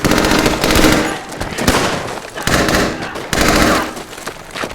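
Mortar strikes in a Pacific war TV series: dense, continuous barrage of loud blasts and rapid gunfire-like cracks, with rolling bursts and no clear gaps.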